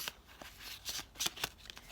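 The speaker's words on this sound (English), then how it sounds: "I'm going to be pulling the romance angel oracle deck for you guys." A romance angel oracle card deck being shuffled by hand, a run of quick papery riffles and slaps in uneven bursts, close and fairly quiet with no talking.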